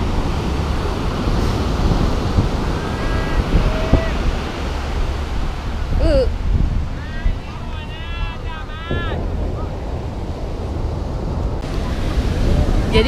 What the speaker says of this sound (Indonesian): Jadi kita di Ipanema kan, dan seperti yang kamu tahu kan, ini pantai.